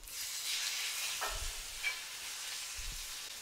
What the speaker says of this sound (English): Then I'll take my steak and it goes in the pan. And I'm going to push down on it to help with the sear.